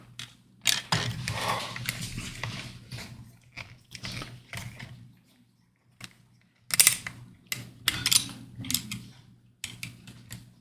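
A screwdriver drives a long screw into a T-800 scale model kit, with close, intermittent ratcheting clicks and creaks in bursts separated by brief pauses.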